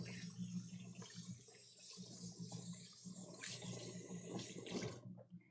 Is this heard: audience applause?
no